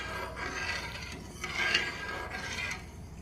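Spoon stirring Gujarati kadhi in a cooking pot, scraping and rubbing against the bottom in soft repeated strokes, fairly quiet and close with no talking.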